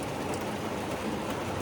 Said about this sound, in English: now it's like torrential downpour